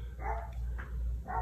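Dogs bark a few times somewhere in the background, three short muffled barks spaced across a second and a half.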